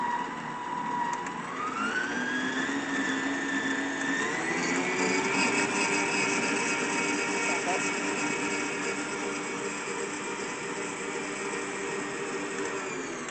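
An electric stand mixer runs at slow speed in a home kitchen while quesadilla fillings are mixed, a steady whirring motor hum that rises in pitch early on, then holds a constant, fairly loud drone throughout.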